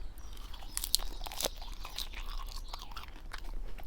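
Close, crisp crunching and tearing of iceberg lettuce, a series of irregular wet snaps with no talking.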